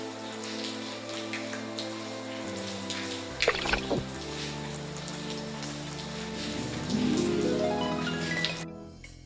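Steady rain pattering on a surface in the video game Lucy Dreaming, a dense continuous patter with a game music tone layer underneath and a brief burst of louder drops midway.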